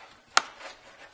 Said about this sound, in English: it should snap back into place.